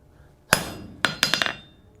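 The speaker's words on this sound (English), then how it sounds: "Give it a couple good whacks here," A hammer strikes a freshly forged cold chisel set on a piece of material: one sharp, ringing metallic blow, then a quick cluster of four more. The strikes are close and loud with no talking.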